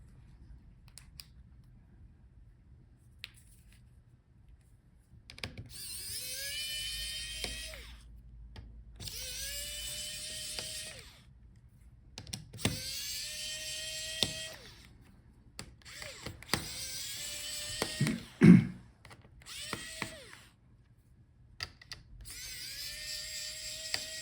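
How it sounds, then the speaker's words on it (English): A small electric screwdriver backs screws out of an HP Envy 17 laptop in a series of short whirring bursts, each rising in pitch, separated by pauses with faint clicks and one sharp clatter. "now let's take out all the screws"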